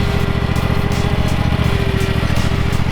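A lawn mower's small engine runs steadily and loudly at close range, a constant buzzing drone with a faint pulsing rhythm throughout and no talk.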